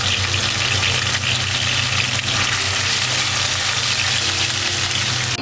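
Ground spice paste (bumbu halus) for soto betawi sizzles in hot oil in a pan, a steady dense crackle with a constant low hum beneath it, no talk.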